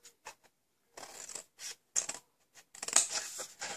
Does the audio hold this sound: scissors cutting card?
yes